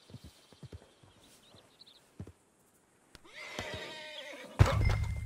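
A horse in the video game Red Dead Redemption 2 clip-clops in a few scattered hoof steps, then lets out a loud, drawn-out neigh near the end.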